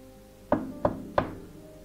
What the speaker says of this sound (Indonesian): Ada yang mengetuk pintu belakang.